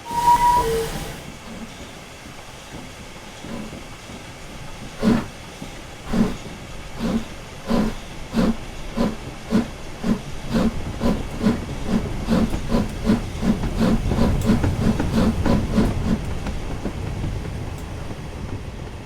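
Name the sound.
steam locomotive hissing steam, Caledonian Railway 191 class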